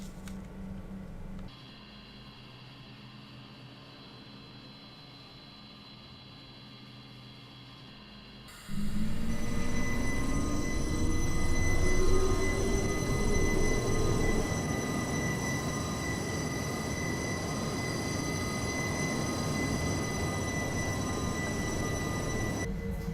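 A train in Train Simulator 2018 pulls away from Chur station on the Arosa line in Switzerland: after a quiet cab interval the motor noise steps up abruptly into a loud, steady rumble with a rising whine as it gathers speed.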